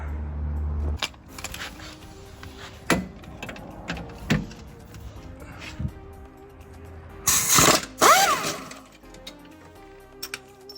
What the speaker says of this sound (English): unscrew the nuts